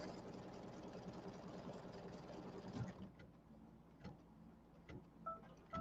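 A sewing machine stitches a seam on a fall settee pillow, its busy mechanical whir running steadily for about three seconds before stopping, followed by quieter handling sounds and faint talk.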